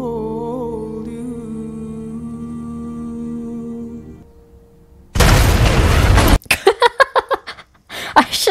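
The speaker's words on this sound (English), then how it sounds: "they're having this weird sweet moment and then there's a giant explosion in the back" A giant explosion erupts in a scene from Zack Snyder's Justice League, a sudden loud blast of broadband rumble after a quieter musical passage, followed by a series of sharp rhythmic impacts.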